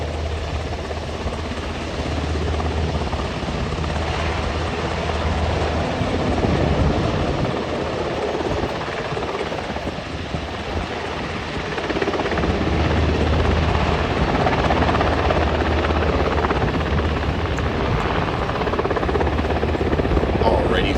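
A search and rescue helicopter hovers nearby at an air show demonstration with a continuous loud rotor roar and chop, steady throughout, with voices faintly underneath.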